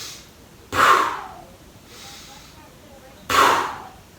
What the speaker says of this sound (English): when you push up, you're going to breathe out the mouth, and when you lower the equipment, you're going to breathe in the nose